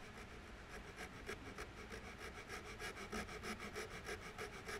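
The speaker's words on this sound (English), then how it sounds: "I'm going to use a back saw." A fine-toothed back saw cuts wood in steady, even strokes, a soft rhythmic rasp repeating about every fifth of a second, close but faint, with no voices.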